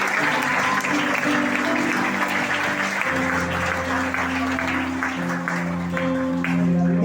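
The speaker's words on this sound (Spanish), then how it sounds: "Un fuerte aplauso a Jesús." Applause from a church congregation during a service, steady clapping throughout with sustained organ or keyboard chords underneath.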